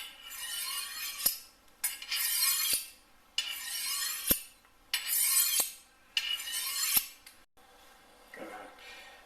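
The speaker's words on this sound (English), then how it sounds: "run full length of the knife along that steel" A kitchen knife drawn the full length of a sharpening steel with a safety guard, five or six long metallic rasping strokes in a steady rhythm, each ending with a sharp clink, close and alone.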